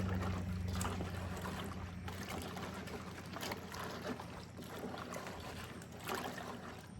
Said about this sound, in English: So I'm going to stir them around just a little bit and wash it.